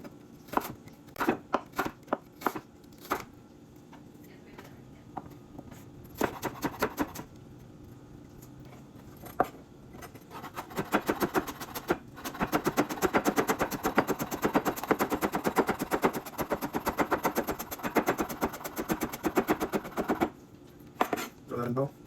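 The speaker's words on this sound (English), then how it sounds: "The ginger cleaned up real nice. I'm gonna mince it real small." A knife mincing fresh ginger on a cutting board: bursts of rapid, sharp chopping taps near and loud, with short pauses, then a long sustained fast run of strikes before slowing again.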